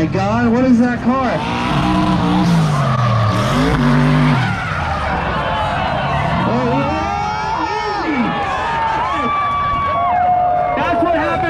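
Drift car with a twin turbo V8 skidding at a drift night event, loud engine revving and tire squeal sweeping past, with a crowd and people talking over it.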